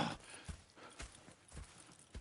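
Horses' hooves clip-clopping in the Red Dead Redemption 2 game, a quiet, even series of hoof knocks at a walking pace, fairly close and alone.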